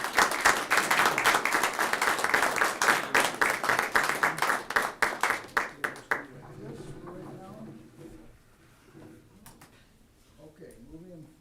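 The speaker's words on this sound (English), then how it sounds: "let's give these guys a round of applause" A room full of people applauds at a city commission meeting, dense steady clapping for about six seconds that thins to scattered claps before quiet talk resumes.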